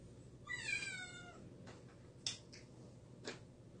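A cat gives one clear, drawn-out meow, followed by a few sharp, faint clicks and taps against a quiet indoor background.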